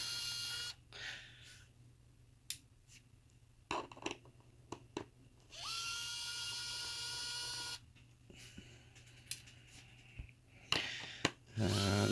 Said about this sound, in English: just take all these screws out.